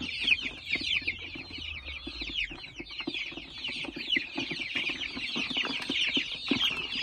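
Kuchinsky breed chickens, young birds kept for sale, cluck and chirp in a dense, continuous chorus of high calls, close and busy, with no voices.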